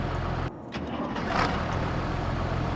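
A tractor engine in the Farming Simulator 25 video game cranks and starts after a brief dip, then settles into a steady mid-pitched running hum, loud and close with no talk.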